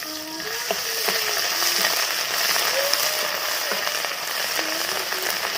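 Ground spices and ginger paste sizzle in hot oil for a cauliflower roast, a steady close frying hiss with soft scraping stirs and small pops throughout.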